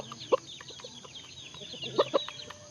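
Aseel gamecock rooster clucking: a few short low clucks, one early and a pair near the end, against quiet farmyard background noise.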